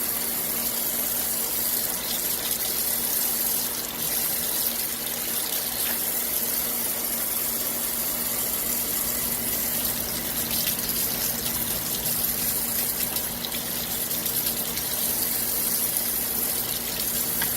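Water runs steadily from a tap while model car parts are washed, a continuous close hiss and splash that holds even throughout with no talking.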